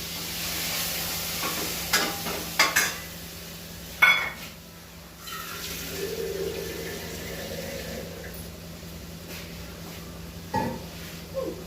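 Potatoes simmering in a pot on a stove give a quiet, steady bubbling hiss over a low hum, broken by a few sharp clinks and scrapes of a utensil against the pot.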